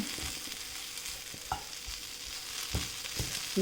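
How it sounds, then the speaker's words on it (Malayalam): Sliced bitter gourd fries in a pan while being stirred, with a soft, steady sizzle under a handful of scattered scraping and clinking strokes from the spoon, close and quiet, with no speech. "ഇത് ഇടയ്ക്കിടയ്ക്ക് ഒന്ന് ഇളക്കി കൊടുക്കണം"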